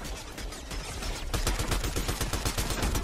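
Fortnite turret pouring rapid automatic fire at a player, a dense stream of loud gunshots that grows heavier partway through, with no talk.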